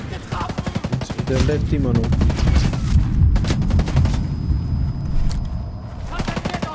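Rapid automatic gunfire from the Ghost Recon Wildlands military shooter video game rattles in dense bursts with heavy booms, loud and close, while someone talks over the shooting.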